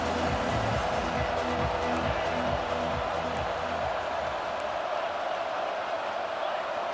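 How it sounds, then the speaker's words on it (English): Stadium crowd noise from EA Sports College Football 26, a steady loud roar of a packed game-day crowd filling the whole stretch, with a rhythmic low pulse like a drum or chant early on that fades after a few seconds. "This crowd ready to make its presence known."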